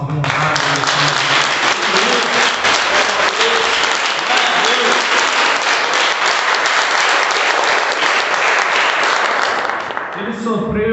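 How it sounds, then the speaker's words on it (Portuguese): A church congregation applauding during a worship service, loud, dense clapping that carries steadily for about ten seconds, with a voice speaking over it near the start and again as it ends. "Então que nós possamos dar uma salva de palmas assim, honrar a Deus"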